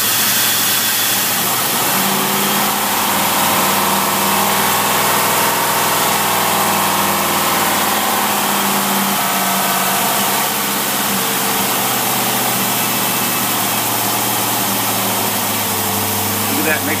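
An engine fitted with a Motorcraft single-barrel carburetor idles with the choke on, a loud, steady, rough drone filling the whole stretch.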